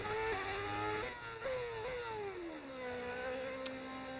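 A modded racing car engine in a Formula-style racing video game whines steadily at high pitch, shifting up through gears in quick steps and then easing down, continuous and fairly close, with no talking.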